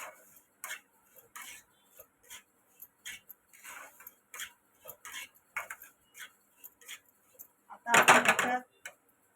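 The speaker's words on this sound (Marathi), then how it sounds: "असं चांगला रवा तेलामध्ये असा चांगला हलवायचा" Semolina (rava) stirred in oil in a pan for prasadacha shira, the spoon scraping and clinking against the metal in short, regular strokes, ending with a louder, sustained clatter.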